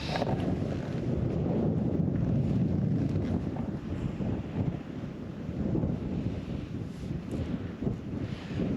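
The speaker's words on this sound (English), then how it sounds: "It's cold at the top, it's windy" Strong, steady wind roars and buffets the microphone on the summit of Mount Augustus, Western Australia, a continuous low rumble with gusty swells and no voices.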